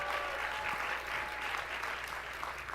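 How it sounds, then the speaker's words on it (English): Steady applause from an audience at an interview event welcoming a new Twitter CEO, dense and continuous through the whole stretch with faint voices underneath. "let's have a round of applause"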